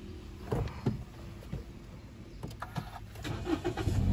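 A red 2016 Toyota Yaris TRD manual being started, with a quiet cranking catch followed by a low idle that builds slightly, heard close and faint without speech.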